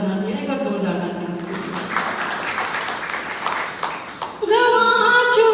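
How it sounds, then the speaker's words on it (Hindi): An audience at a Hindi poetry gathering breaks into loud applause, a dense wash of clapping that swells in the middle, with a voice speaking before it and resuming as it fades. "एक और जोरदार तालियां"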